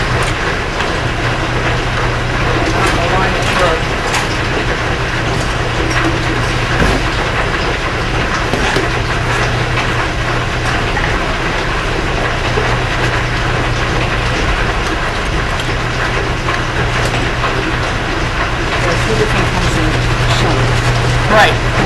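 A power loom weaves with a shuttle at the Mishler Mill, a loud, steady mechanical clatter of rapid repeating beats and a constant hum, with people talking underneath.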